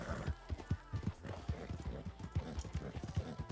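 Horse hooves clip-clop at a steady riding pace in a video game about bandits in a town, with an occasional whinny, under a faint background of game sound.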